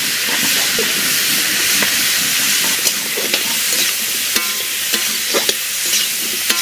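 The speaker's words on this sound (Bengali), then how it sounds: "আবার কচু রান্নার জন্য প্রথমে তেল দিয়ে দেবো কড়াইটা গরম হয়ে গেছে" Oil heats in a hot wok as taro curry begins, with a constant loud hissing sizzle and scattered sharp clicks and scrapes of stirring throughout; no voices.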